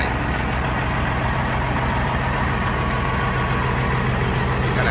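A Kenworth W900 Aerocab truck with a hopper box sits idling, its steady low diesel rumble continuous and close throughout, with voices heard over it.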